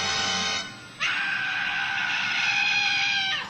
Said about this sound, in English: You can hear that scream as well.